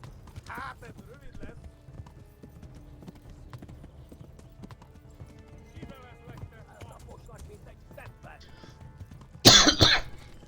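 A horse gallops in the Kingdom Come: Deliverance video game, its soft, steady hoofbeats running throughout. A few faint vocal sounds sit underneath, and a sudden loud burst comes near the end.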